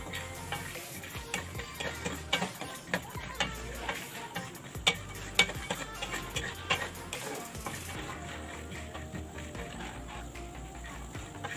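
Peanuts fry in oil on a low flame for chivda, a quiet, steady sizzle with irregular ticking pops and occasional stirring clicks throughout.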